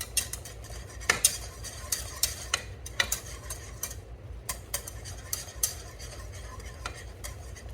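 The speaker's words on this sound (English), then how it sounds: "get us a whisk. And whisk it in." A whisk stirs thickener into sweet potato cobbler filling in a pot, with rhythmic clinks and scrapes against the sides over a low simmering sizzle, close and moderately loud.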